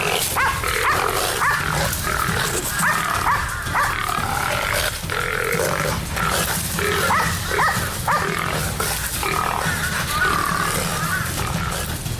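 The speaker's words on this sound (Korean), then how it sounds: "이때 들려오는 멧돼지 소리" Repeated harsh squeals and grunts from wild boars surrounded by Jeju dogs on Hallasan, loud and overlapping, with rustling and a dog-like bark mixed in.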